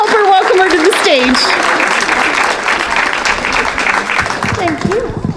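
Audience applause at the Northern Maine Alzheimer's Walk 2019, dense and steady from start to finish, with a few cheers and a brief voice rising over the clapping.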